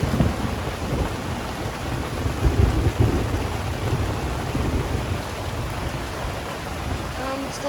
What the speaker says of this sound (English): It is a downpour, as I'm sure you can hear.